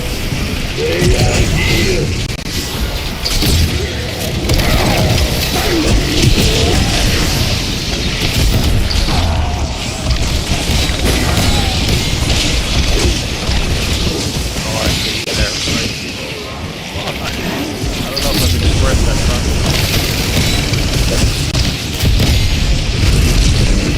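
War Machine grenade launcher in Black Ops 6 Zombies pounds out a dense, continuous barrage of booming explosions and mechanical clatter, loud and relentless throughout with little pause.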